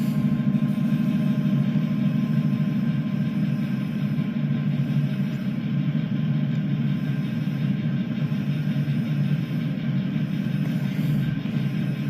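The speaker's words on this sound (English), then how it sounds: "And we're passing another train." A coal train rolling around Horseshoe Curve passes another train alongside, making a steady, loud, continuous low rumble with rail noise that holds unbroken from start to finish, with no talking.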